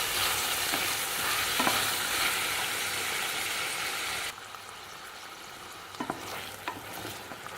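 Two large tomatoes hit a pan of well-sautéed onions for an idli and dosa chutney, raising a loud, close sizzle with stirring. Midway the sizzle drops sharply to a softer simmer, punctuated by a few scraping spoon knocks.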